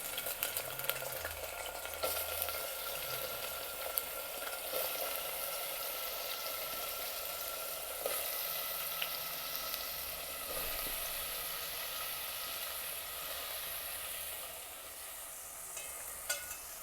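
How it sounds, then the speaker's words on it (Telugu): Raw banana pieces fry in hot oil in a brass pot, a steady close sizzle and crackle running throughout with occasional stirring clinks, no voices. "వేడెక్కిన తర్వాత మనం తరిగి పెట్టుకుని అరటికాయ ముక్కలు వేయాలి"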